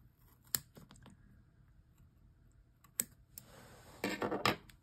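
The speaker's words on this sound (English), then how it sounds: "First, I'm going to cut the bottom of my tassel here." Scissors snipping the bottom of a yarn pom-pom tassel, quiet close-up crisp clicks and short cutting bursts scattered over a few seconds in a hushed room.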